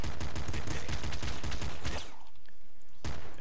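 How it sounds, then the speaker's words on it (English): Machine gun firing in the fast-paced shooter Nuclear Throne, a steady stream of rapid loud shots for about two seconds, then a pause and one more burst. "I think I'll switch to machine gun too."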